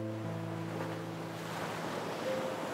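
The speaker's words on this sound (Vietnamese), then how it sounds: "Tiếng sóng ở nơi đó rất đặc biệt" Waves at a river shore, a soft continuous wash of water with wind, steady and faint, along with a low sustained tonal hum, no voices.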